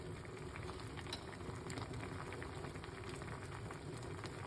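Fat-burning tea bubbling at a steady boil in a pot on a cooker, a continuous soft rolling hiss and fizz that stays even and close throughout with no pauses.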